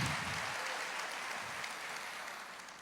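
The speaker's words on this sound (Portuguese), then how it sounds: "Aplauda ao Senhor" A church congregation claps together in a dense, steady wash of applause that slowly fades, with no voices on top.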